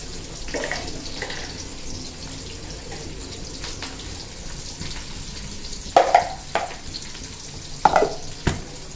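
Curry leaves and green chillies fry in a pan with a steady, close sizzle. A few sharper pops and stirring clatters break through in the final seconds.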